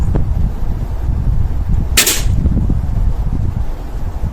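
A single sharp air rifle shot, a Walnut and Steel model firing a pellet at a paper target card, cracks once near the middle, brief and crisp over low outdoor background noise, with a faint tap earlier.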